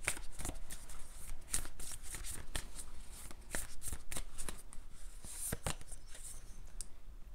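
A deck of oracle cards being shuffled close by, a quiet run of crisp riffling and slapping bursts repeating irregularly for several seconds with no voices.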